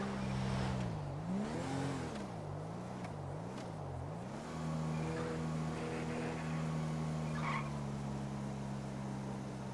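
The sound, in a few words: fast car driving in video game GTA LSPDFR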